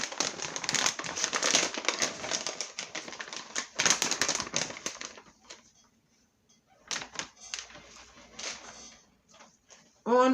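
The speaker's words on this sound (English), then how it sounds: "Changing paper towels." Paper towels crinkle and rustle in a kitchen while groceries are processed, busy crumpling bursts up close at first, then scattered softer handling after a brief pause.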